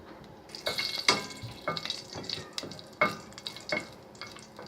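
Whole spices (a small cinnamon stick, bay leaf, cumin seeds) and a green chili sizzle in hot oil for a potato-peas curry. A steady crackle runs under several sharp spoon-and-pan clatters, all at close range.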